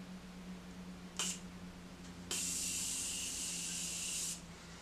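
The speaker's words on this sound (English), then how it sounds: "I'm using the Morphe setting spray" A short spritz of Morphe setting spray mist, then a longer steady hissing spray lasting about two seconds, close and soft over a quiet hum.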